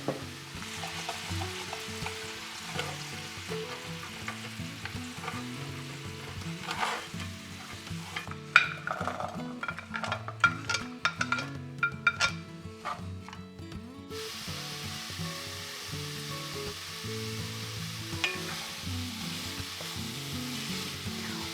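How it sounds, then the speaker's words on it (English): Vegetables are stir-fried in a pan deglazed with bone broth for an oxtail dish, a soft steady sizzle with a burst of rapid spatula scrapes and clacks in the middle, heard close with no speech. "and then I'm going to stir fry the veggies."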